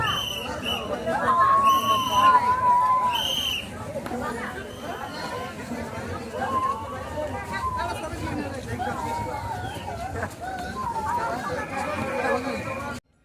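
Dense crowd chatter and babble fill a packed Durga Puja pandal in Kalyani, with steady overlapping voices all around at moderate loudness and no single speaker standing out.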